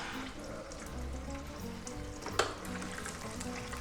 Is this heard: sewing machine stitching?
no